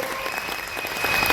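An audience at a DXN direct selling meeting claps in loud, steady applause that swells slightly toward the end, a dense mass of hand claps filling the room.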